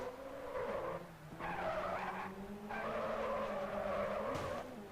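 Race cars in the GRID 2 racing game, engines droning while tires squeal and skid in long sliding bursts with brief gaps, loud and continuous across the stretch.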